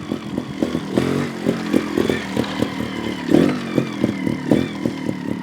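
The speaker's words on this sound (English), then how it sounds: "I'm getting the RPM up better." A GasGas TXT 300 trials motorcycle revs on a backyard trials obstacle course, its engine sounding close and loud in quick repeated throttle blips with a rough, pulsing tone and some mechanical clatter.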